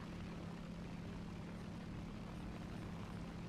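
Steady, droning roar of a bomber jet in an aerial combat video game, a continuous engine hum with no breaks and no talking.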